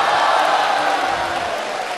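Audience applause at a Deyun She crosstalk show, the first show of its fifteenth-anniversary tour: a dense, steady wash of clapping from a large crowd that holds at an even level for the whole stretch.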